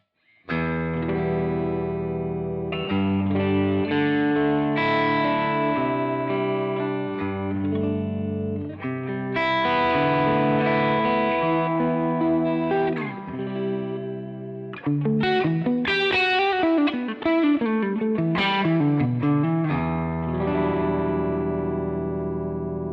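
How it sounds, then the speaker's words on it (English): Clean electric guitar runs through an amp with the drive channel switched off, played alone and loud: sustained chords and melodic lines with a brief fast run near the end. "Let me switch off the drive channel and I'll show you the difference with a clean sound."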